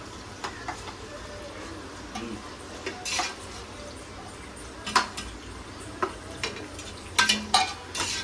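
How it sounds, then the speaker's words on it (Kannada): Ginger garlic paste is stirred and fried in a pan for Nati Donne biryani. A spatula scrapes and clinks against the pan in irregular bursts over a faint sizzle, close and fairly quiet. "ಸ್ವಲ್ಪ ಶುಂಠಿ ಬೆಳ್ಳುಳ್ಳಿ ಪೇಸ್ಟ್ ಹಾಕ್ಬೇಕು ಇವಾಗ"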